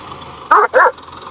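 Dog barking on a farm where wheat is being grown, three sharp barks close by, the first two a quick pair and the third cut off at the end, over quiet background noise.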